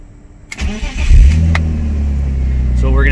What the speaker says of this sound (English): So cold start.